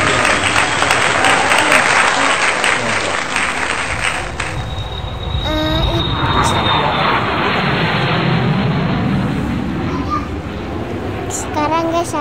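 A Hercules propeller transport plane drones overhead, its broadband roar steady and loud for the whole stretch, with a faint tonal whine and background chatter mixed in.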